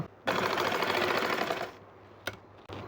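Sewing machine running a steady burst of rapid stitching on burqa fabric, loud and close, then stopping, followed by a brief mechanical click and a final clack.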